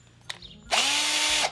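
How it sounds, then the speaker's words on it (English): A power drill used as an automated screwdriver gives a short click, then a loud, steady whirring burst for under a second as it drives a screw, stopping abruptly. "just swaps over the drill. And that's your automated screwdriver"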